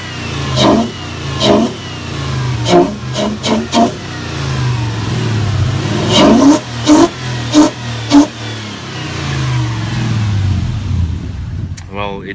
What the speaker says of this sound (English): I'm gonna let you have a listen at the intake sound of the V8.